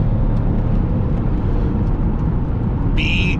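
BMW X5 xDrive35d twin-turbo diesel on the road, heard from inside the cabin as a loud, steady low engine and road drone, with a brief electronic chime at the end.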